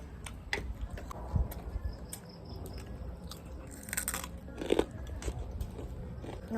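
Crunchy pork crackling dipped in homemade jaew sauce is bitten and chewed close up, giving repeated crisp crunches and clicks in an uneven rhythm.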